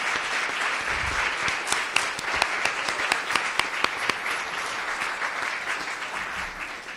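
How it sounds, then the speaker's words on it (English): An audience at a district attorney debate on a university campus gives a sustained round of applause, a dense wash of clapping with sharper individual claps near the front and a few faint voices underneath. "Would you please stand so we can give you a round of applause?"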